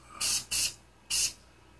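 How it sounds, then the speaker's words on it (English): Three short bursts of disinfectant cleaner sprayed onto hair clippers, close and crisp, with a brief gap after the second. "You want to spray it just a little bit."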